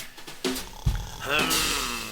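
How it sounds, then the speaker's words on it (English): A lion's purring, rendered by a human voice, comes as a low, rough rumble rising into a sustained, throaty drone over about two seconds, close and moderately loud. "He purred to himself."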